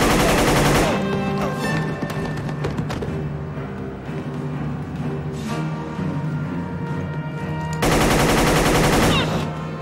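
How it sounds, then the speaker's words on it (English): Sustained gunfire during a building raid, with rapid bursts that sound like machine-gun fire, loud and close throughout and heaviest at the start and the end, over a dense action-film soundtrack. "We thought we heard gunfire."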